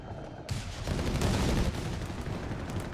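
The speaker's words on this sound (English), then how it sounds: "Lot of mortar fire there." Mortar and artillery fire in the World War II strategy game Company of Heroes 3, a dense battle barrage of overlapping booms and gunfire rolling continuously at moderate level.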